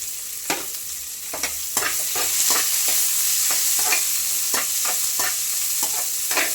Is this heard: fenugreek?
yes